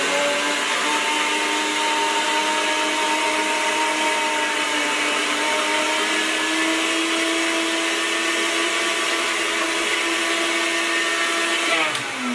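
A kitchen blender runs steadily for about twelve seconds, a loud continuous whirring drone with a constant pitch that shifts slightly near the end as the motor slows.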